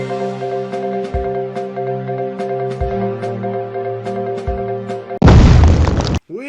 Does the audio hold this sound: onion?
no